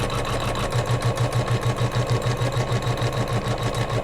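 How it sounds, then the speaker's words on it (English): Embroidery-style sewing machine stitching down quilt batting on a Kimberbell pillow block, a loud close steady whir with a rapid, even mechanical pulse throughout. "stitching down our batting"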